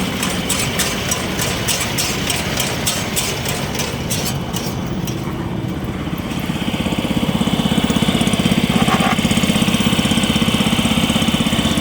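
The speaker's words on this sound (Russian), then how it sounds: "Давайте запустим вязальный аппарат. Поднимаем тумблер, включаем, и нитка подается." A Japanese self-propelled round baler runs with its twine tying unit engaged, a steady engine drone with rapid mechanical ticking early on, then a heavier, rougher running tone close by, no voices.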